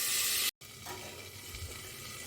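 Chopped vegetables, including drumsticks, are stirred in a hot pan and sizzle steadily, with a brief dropout of sound near the start.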